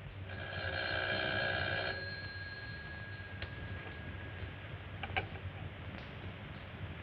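An old-fashioned telephone bell rings in a vintage film scene, a steady ringing over a hissy, humming background that fades after a couple of seconds, followed by faint clicks.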